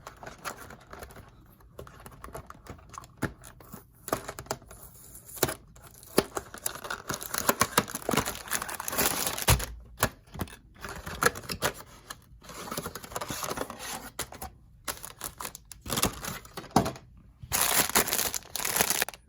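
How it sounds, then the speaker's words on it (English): Plastic packaging of a multicolor LED light strip being torn open by hand, a steady run of crinkling, rustling and sharp ripping bursts close to the microphone, with brief pauses between tugs and no talking. "Let's tear it open first."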